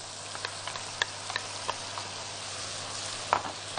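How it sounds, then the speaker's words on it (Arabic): Onions sauté with chicken in a pan for a chicken fino bread tray bake, a soft steady sizzle with scattered light pops and crackles, no one talking. "ومجرد ما يتشوح شويه كده مع الفراخ"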